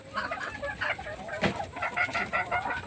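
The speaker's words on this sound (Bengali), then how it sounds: "দেখছেন এখানে সব মোরগগুলো আছে কি সুন্দর মোরগ দেখেন এখানেও দেখেন এই যে মুরগিগুলো এগুলো ডিম দিচ্ছে" Hill-country desi chickens, including roosters and laying hens, cluck continuously in a coop, a soft, layered chorus of overlapping clucks and short calls heard from close by.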